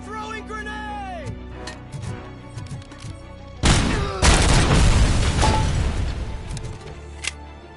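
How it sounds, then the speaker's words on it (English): A grenade blast in Robocop Rogue City goes off mid-clip as a sudden loud boom with a long crashing tail, following quieter game sounds and a shouted voice beforehand. "Throwing grenade!"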